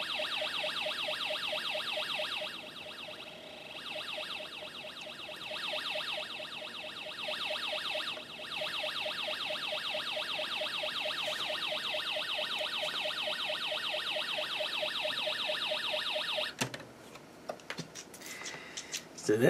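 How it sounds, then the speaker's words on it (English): Siren sound effect from a Snap Circuits speaker driven through a step-down transformer, a loud electronic warble repeating steadily and rapidly, cutting out near the end before a brief restart. "we got the same siren sound effect, but now it's louder"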